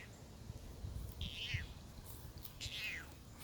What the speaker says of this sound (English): Why you meowing like you hoarse?